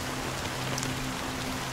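Steady rain in the video game Honkai Star Rail, a soft continuous patter with a low hum beneath, even and unbroken throughout.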